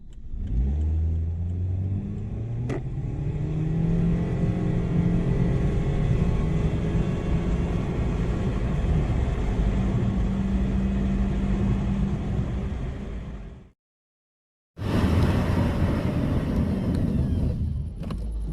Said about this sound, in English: The car just drones on and on, but after that it really picks up and goes.